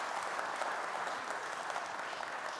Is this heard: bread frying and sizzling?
no